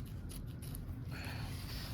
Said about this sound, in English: Turn the hoop to the back and cut away the stabilizer inside the zipper placement line.